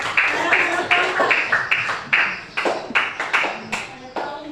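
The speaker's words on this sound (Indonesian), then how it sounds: "sekarang tepuk tangan" A group claps hands in an evenly spaced rhythm, about a dozen sharp, close claps in a lively repeating pattern during a classroom activity on Islamic cultural history.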